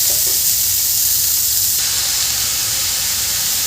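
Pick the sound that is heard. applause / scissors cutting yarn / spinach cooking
spinach cooking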